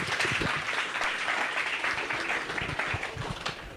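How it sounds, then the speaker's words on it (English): An audience applauds as speaker Matt Diggity is introduced at a conference talk, a loud, full burst of clapping from many people that holds steady and then begins to thin toward the end. "Please give me a big round of applause for Matt Diggity."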